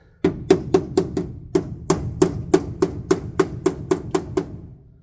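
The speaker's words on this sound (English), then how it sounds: "I'm just going to take the hammer and just do that." A hammer strikes the sheet metal of a VW Bay Window bus about fifteen times in a steady rhythm, each hit sharp and ringing, close and loud.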